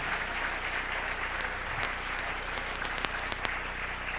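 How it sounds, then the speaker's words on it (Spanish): Church congregation clapping in praise during a sermon, a dense continuous round of applause with sharp individual claps popping out near the end. "Dele un aplauso al Señor."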